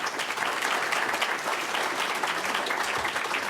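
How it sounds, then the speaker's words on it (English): Applause fills a city council meeting room after a resident finishes public comment, a steady broadband patter of many hands clapping at once, sustained and fairly loud for the whole stretch with no voices over it. "Let's keep the applause to a minimum"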